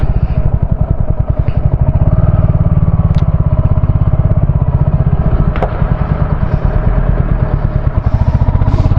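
A Royal Enfield Hunter 350 climbs a mountain road toward Darjeeling, its single-cylinder engine thumping loudly and steadily close up with rhythmic pulses and light clatter the whole time.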